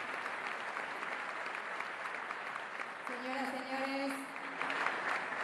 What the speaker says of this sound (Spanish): agradecemos y despedimos con este fuerte aplauso